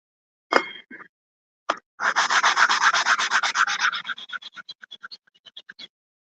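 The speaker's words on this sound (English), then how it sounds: "I've got one more that I need to sand." Lumber is sanded by hand with a few quick scratchy strokes, then a sustained rasping run that breaks into short, slowing strokes, close and fairly loud with no talking.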